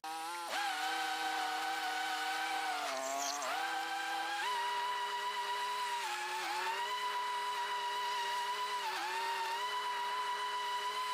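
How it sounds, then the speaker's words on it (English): A small gasoline lawnmower engine drones steadily and close by, chopping up fallen leaves in a garden, its pitch dipping briefly under load several times as it works. "I'm going to take the lawnmower. I'm going to go over them, try to chop them up"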